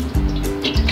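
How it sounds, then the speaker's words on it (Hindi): Cooking oil poured into a deg (cooking pot) over a high flame before onions go in, a brief, loud, close liquid gush and splash. "अब हम देगचे में सबसे पहले ऑयल डालेंगे"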